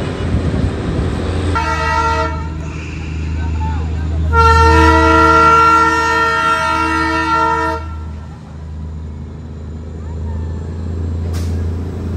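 A toy train on the Batasia Loop in Darjeeling sounds two loud, sustained toots over a low rumble of passing wagons, with a faint whistle near the end and voices murmuring in the background.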